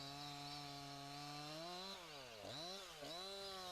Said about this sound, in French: Le corps de la tronçonneuse repose sur le tronc et le guide-chaîne effectue un mouvement de balancier.